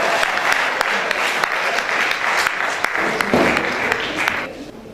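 Applause from a mushaira audience greeting a poet called to the stage, a dense steady clatter of many hands close by that swells briefly near the end before tapering off.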